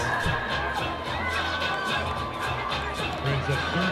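Pink-dressed crowd at a Redondo Union versus North Torrance high school football game, steady cheering and chatter from the stands with shouts rising here and there, moderately loud, with talking blended into the din.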